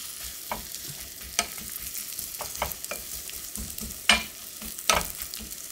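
Radish slices pan-frying in perilla oil, a soft continuous sizzle broken by several sharp crackles and spatters from the hot pan, with no talking.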